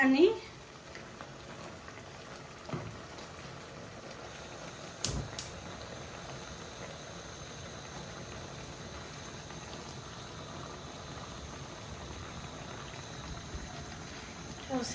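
Pot of oil with onion, ginger, garlic, cinnamon, cardamom and salt boiling for koi fish curry, a steady soft bubbling hiss throughout with a few brief clatters near the start and around five seconds.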